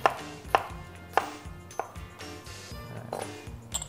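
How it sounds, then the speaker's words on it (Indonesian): A knife slices garlic on a cutting board with sharp, separate taps at an uneven pace, close by and alone. "Sekarang ini ada bawang putih, tinggal kita iris aja ya."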